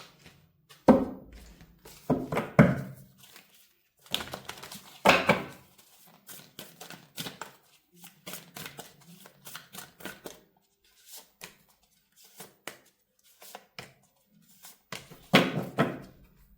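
Tarot cards are drawn and handled in irregular bursts of sharp, close slaps and riffles, with quiet rustling in between. No voice is heard.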